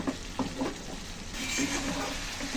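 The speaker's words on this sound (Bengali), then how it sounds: "এভাবে একটু মাছগুলো হালকা একটু নেড়ে নিলাম, মাছগুলো যাতে লেগে না যায় তার জন্য এইভাবে একটু নেড়ে নিলাম" Hilsa fish being gently stirred in mustard masala as it fries for a Bengali sorshe ilish curry: a steady close sizzle with soft scraping strokes of the spatula, unaccompanied by any voices.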